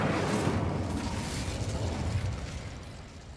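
Fiery spell cast in Hogwarts Legacy, heard as a loud whooshing burst of flame that erupts at once and then trails off into a softer roar over a few seconds, with no talk.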